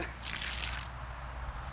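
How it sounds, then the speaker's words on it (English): Water splashes in a short, bright spray right after a blade cuts a target during a forging challenge. The burst is brief and sits over a low background hum. "Water splash all over me."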